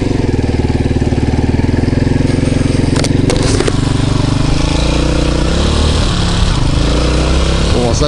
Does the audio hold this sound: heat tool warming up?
no